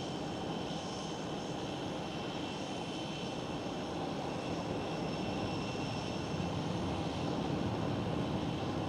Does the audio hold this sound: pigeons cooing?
no